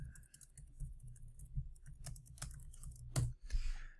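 Computer keyboard being typed on to enter a question, with quick irregular clicking keystrokes in short bursts and a few louder taps, close and quiet.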